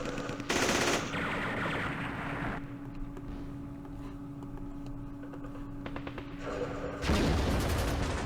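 Machine gun fire in the Campaign Series Vietnam war game, set in the Lam Son 719 operation, rattles in a dense continuous burst for several seconds, loud and close, with sharper blasts opening and closing the stretch.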